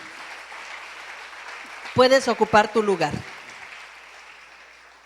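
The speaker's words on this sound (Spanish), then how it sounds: "Vamos a darle un fuerte aplauso al Señor" A church congregation applauds during a Spanish-language service, a continuous wash of clapping that a voice briefly speaks over before it slowly fades.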